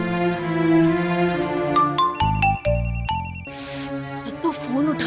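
A mobile phone ringtone plays a melodic electronic tune in a home, repeating its phrase loudly with short pauses, while a few voices speak briefly over it.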